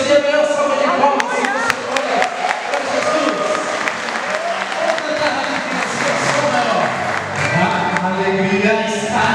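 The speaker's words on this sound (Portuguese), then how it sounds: "Dê a melhor salva de palmas." A congregation at a Baptist church anniversary celebration breaks into loud, sustained applause mixed with cheering and crowd noise, while a voice carries on over the clapping.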